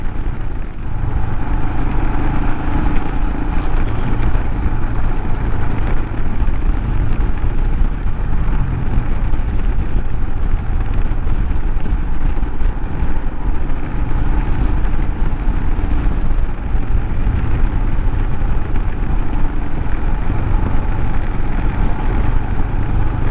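A Royal Enfield Himalayan motorcycle rides twisty back roads, its engine droning steadily and close with constant wind rush, holding an even level throughout with no talking.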